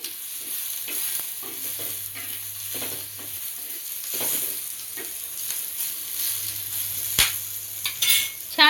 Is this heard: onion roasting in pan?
yes